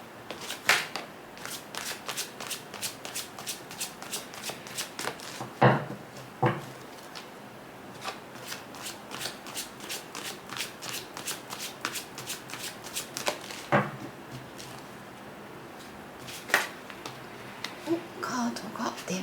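Tarot cards being shuffled by hand, a rapid run of crisp riffling flicks and slaps repeating steadily at close range, with brief louder knocks between, and someone talking softly in the background.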